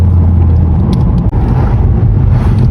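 A 400 hp Volkswagen Golf Clubsport is driven hard, its engine roaring loud and close with a strong low rumble, a brief dip mid-clip before the revving builds again.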